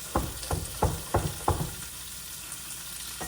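Radishes frying in a pan give a steady loud sizzle, with five rhythmic stirring bursts close up in the first half-second stretches before the sizzle settles into a continuous hiss.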